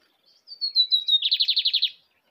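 A bigodinho (lined seedeater) sings a short, clear song, starting with a thin rising whistle and ending in a rapid run of about eight bright trilled notes, close and alone.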